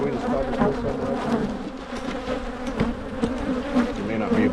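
A swarm of honey bees drones steadily around an open spring hive, the close buzzing hum constant and full, rising slightly as bees fly past.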